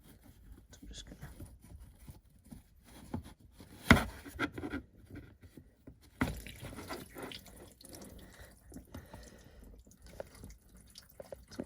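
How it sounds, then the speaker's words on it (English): Engine water from a Indmar Raptor 400 on a 2015 Tige Z3 boat draining into a plastic tray during winterization, a faint soft trickle and drips with a couple of sharper knocks, quiet and close. "So it's draining into the tray"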